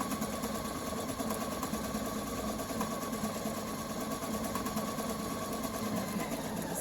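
Sewing machine running steadily through vinyl and suede, a close, continuous mechanical whir and rapid stitching rhythm throughout with no pauses or talk.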